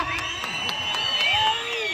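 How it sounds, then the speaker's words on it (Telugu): A live outdoor crowd at a Jabardasth comedy team show in Kalyandurg claps, cheers and whistles together, with sharp whistle tones over steady applause and a dense wash of voices throughout. "ఒకసారి గట్టిగా చప్పట్లు కొట్టి విజిల్ కొట్టి ఏ కుర్రాలు సీటీలు కొట్టండిరా"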